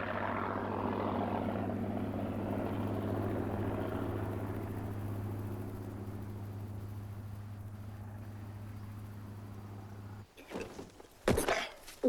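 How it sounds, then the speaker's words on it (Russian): A propeller airplane engine drones steadily in flight, a constant low hum with a rough, buzzing tone that fades slightly before giving way to brief bursts of clatter near the end. "Самолетом управлять просто."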